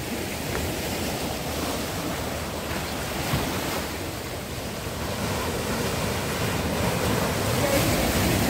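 Ocean waves crash continuously against rocks beside a deck at Barra Norte, a steady roaring wash of surf that swells a little louder toward the end, with wind noise and no talk.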